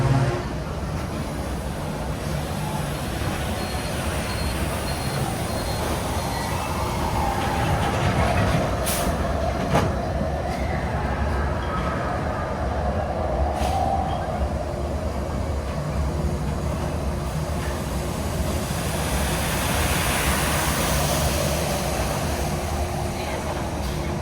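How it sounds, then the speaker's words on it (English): Disneyland monorail gliding along its elevated track, a steady low rumble and wheel hum running continuously throughout, with a faint, muffled voice underneath. "Please remain seated until the monorail comes to a complete stop."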